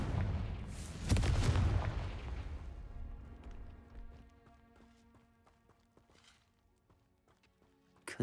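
A Confringo fire spell fired in Hogwarts Legacy lands as a loud booming blast that rolls into a long fading rumble, with quieter scattered game effects trailing after it and one sharp hit at the very end.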